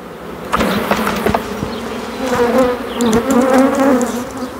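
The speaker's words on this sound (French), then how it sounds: "On va continuer de transvaser les abeilles" Dense, continuous buzzing of many bees swarming up close as they are transferred from a hive stump, with scattered knocks and taps mixed in and no voices.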